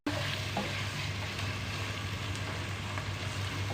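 Vegetables and tomatoes sizzle steadily in a pan as they cook for a vegetable pulao, a continuous close frying crackle with a faint stir or scrape now and then.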